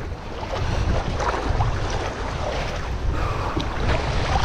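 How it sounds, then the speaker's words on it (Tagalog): Choppy water and waves wash steadily around a half-sunken boat stranded at Bungalon shore during Typhoon Carina, a continuous rough rush with low rumbling and wind noise throughout, fairly close and loud. "Medyo may alon din dito oh."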